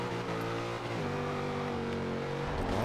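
Nissan Skyline GT-R engine drones steadily in Forza Horizon 2, holding a loud, sustained tone that shifts pitch once or twice as the car accelerates, with no talk.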